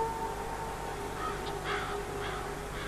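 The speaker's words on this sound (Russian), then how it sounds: "голоса галок, голоса грачей, слетающих с колоколен" Jackdaws and rooks cawing as they fly from church bell towers, a few harsh caws at moderate distance over a steady outdoor hum and background murmur.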